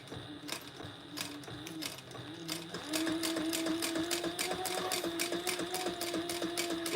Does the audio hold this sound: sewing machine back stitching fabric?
yes